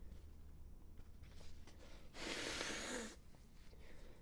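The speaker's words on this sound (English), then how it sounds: "Gotta blow my nose again." A single nose blow, about a second long, muffled and close, sounding after quiet breathing noises in an indoor room.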